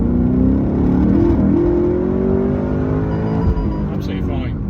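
HSV R8 Clubsport engine heard from inside the car, revving loudly and then dropping as it shifts down into second gear, with a steady road drone underneath.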